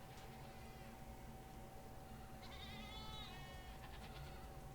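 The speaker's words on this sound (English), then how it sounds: "That little goat is cute. It's trying to eat that." A small goat bleats once, a short wavering cry heard faintly behind steady background hiss, with no speech.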